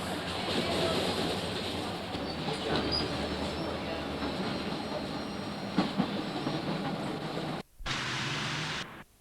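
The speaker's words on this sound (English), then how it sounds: "The Virgin Voyager heading south runs into platform 6." A southbound Virgin Voyager train runs into platform 6 at Sheffield station, a loud sustained rumble with clatter and a brief cutout near the end.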